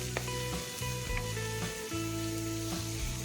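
Onion and tomato fry in a pan for a Kerala-style dish and get stirred: a steady, dense sizzle, close and fairly loud, with a sustained tonal hum running underneath throughout.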